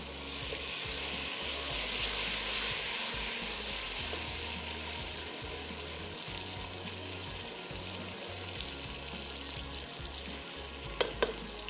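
Plenty of tomatoes fry in a pan with a loud, continuous sizzle up close, with a few light clinks of stirring near the end.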